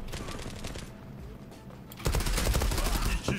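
Gunfire in the online shooter Zula, with scattered shots at first, then a dense rapid burst of automatic fire that carries to the end, loud and close.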